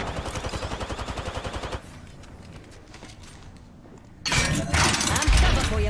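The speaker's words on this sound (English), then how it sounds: "Getting shot at." Incoming gunfire aimed at the player in Apex Legends, a ranked match as Rampart: a steady rhythmic stream of rapid shots, then a quieter lull, then a loud, dense volley of close fire.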